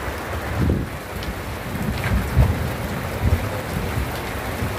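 Strong wind and rain in a storm at a fishing spot produce a continuous rushing roar with low gusty buffeting on the microphone, steady and fairly loud.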